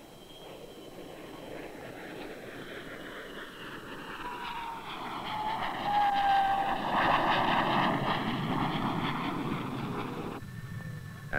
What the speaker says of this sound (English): the DC-10, the newest addition to the DC family of aircraft, will be landing on this runway right behind me here